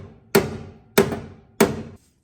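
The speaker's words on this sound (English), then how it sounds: "So I guess we're hitting it with a hammer." Three sharp, evenly spaced hammer strikes with a light hammer tapping a tight fitting into place during a hydraulic clutch setup on a 1974 Dodge Dart Sport; each blow is loud and close, ringing briefly before the next.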